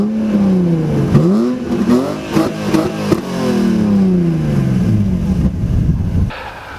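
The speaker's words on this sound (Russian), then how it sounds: "я сейчас вам заведу двигатель, и вы послушаете звук выхлопа." A BMW 330 E46 engine revs and roars through its exhaust, rising and falling in pitch several times before cutting off abruptly near the end.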